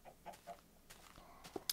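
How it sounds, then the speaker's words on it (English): Minecraft chicken clucking after laying an egg, a few short soft clucks scattered across the moment, with a small pop near the end, fairly faint. "It is a chicken. I just heard it lay an egg."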